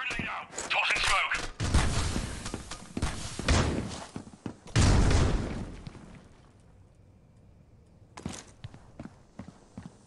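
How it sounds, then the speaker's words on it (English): Smoke grenade thrown in the mobile shooter Critical Ops, a clattering thud and hissing burst amid loud gunfire, footsteps and other game sounds, with a player talking over the action. "Smoke grenade out! Tossing smoke!"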